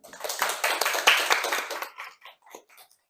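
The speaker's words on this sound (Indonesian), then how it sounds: "Berikan tepuk tangan." Applause from a small classroom group during a micro-teaching lesson, a few seconds of scattered hand claps that thin out into sparse, isolated claps at the end.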